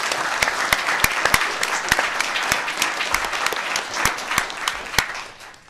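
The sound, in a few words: audience applause for the panel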